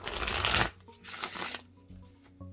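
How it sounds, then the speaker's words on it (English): Close, loud riffle of tarot cards shuffling, followed by a second softer shuffle burst and a few light card taps. "Okay. Shuffle."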